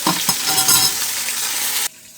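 Korean sea fish frying in a pan gives a loud, crackling sizzle that runs steadily with no voices and then cuts off abruptly near the end.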